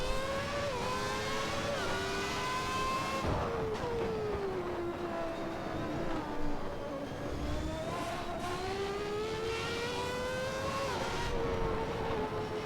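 A high-pitched Williams FW14 early-1990s Formula 1 car engine in Assetto Corsa whines and revs, rising and falling through gear changes with quick auto-blips on downshifts, loud and continuous.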